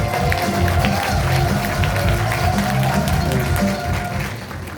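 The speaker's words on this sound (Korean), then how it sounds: "여러분 지금 박수 잘 치셔야 돼요" Applause from an audience at a Korean lawmaker's public report meeting in Yuseong, Daejeon, steady crowd clapping under a voice over a PA, fading slightly at the end.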